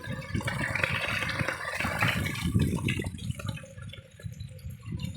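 Water gushes and splashes steadily from a drip irrigation pipe in a drumstick tree farm, partly clogged with stones, a continuous watery rush with some dripping, fairly close.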